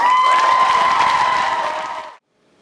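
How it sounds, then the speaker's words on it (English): Loud applause and cheering from a poetry slam audience, steady for about two seconds and then cutting off abruptly into silence. "the applause has to get louder as we go through"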